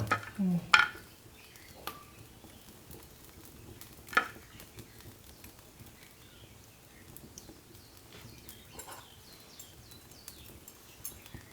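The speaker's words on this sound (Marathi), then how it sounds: "लय करपू नये म्हणून आपलं परतून फिरवून फिरवून परतून घ्यायचं भाजून घ्यायचं आहे" Bombil, Bombay duck fish, roast in a pan in a village kitchen, with faint crackling sizzle, a few sharp clanks and scrapes of stirring near the start, and quieter patter afterward.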